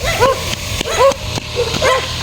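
Dogs barking outdoors in a series of short yips and barks, about four quick bursts at moderate distance over background noise.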